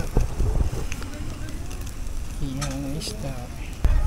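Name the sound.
strong wind at riverside campsite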